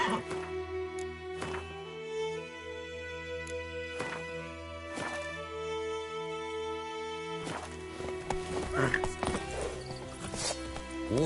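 Hooves of Roach, the horse in The Witcher 3, clip-clop at a steady walking pace over sustained game music, with a few sharper hoof strikes and a busier burst of movement near the end.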